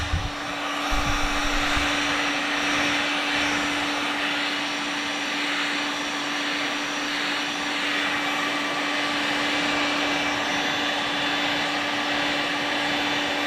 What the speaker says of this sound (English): We're gonna take our heat gun right now, and we're gonna see if we can pull the color out of this.